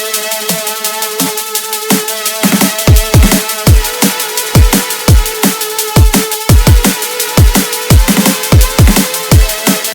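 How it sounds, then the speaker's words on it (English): Big drum and bass drop with a bright, layered Serum 2 synth melody from a Siren Skies preset pack, driven by punchy rhythmic drums and deep kicks, loud and dense throughout, in a remix. "So this is the melody that I introduce in this drop that sounds like this with the drums."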